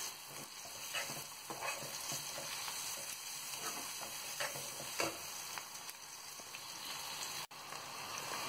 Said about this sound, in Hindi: मसालों को डाल के हमें अच्छे से चला लेना है